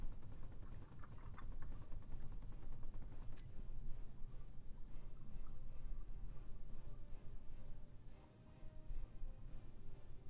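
A ship-mounted gun firing in the space game Space Engineers, a steady dense stream of rapid shots running almost the whole time under a heavy low rumble, loud and close with only a brief dip near the end.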